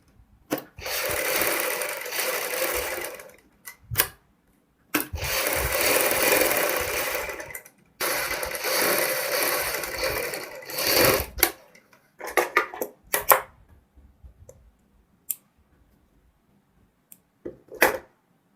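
A sewing machine stitches buckram together with fabric for a kurti neck design. It runs in several bursts of rapid whirring a few seconds long, separated by pauses with small clicks and handling noises.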